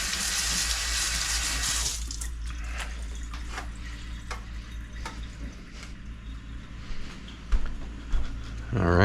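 Watercress rinsed under a running kitchen tap, a steady close water stream that begins loud, then continues with splashing and dripping as the leaves are handled, with a few clattering knocks near the end.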